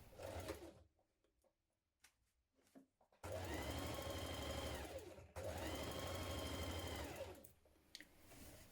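A sewing machine stitches the side seam of a winter coat in two long, loud, steady runs, with quiet pauses and small handling noises before and after.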